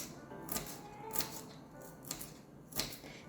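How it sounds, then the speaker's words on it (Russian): A kitchen knife finely chops ginger on a cutting board, giving about five quiet, sharp taps spaced unevenly. "Мелко нарезаю имбирь."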